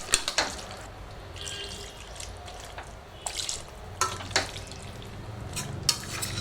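Ginger garlic paste water poured over chicken in a pot for chicken biryani, heard as a soft, steady liquid wash broken by a few sharp splashes and clinks, close by, with no talking.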